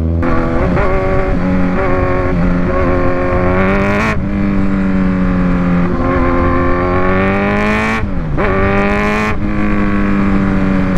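Kawasaki Z1000 superbike engine revving hard after a wash, a loud, close, sustained howl rising in pitch, with quick throttle blips at about four, eight and nine seconds.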